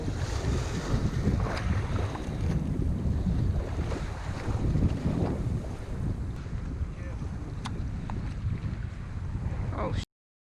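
A fishing boat rides choppy water in strong wind, with steady wave slosh against the hull and heavy wind buffeting the microphone throughout, continuous and close.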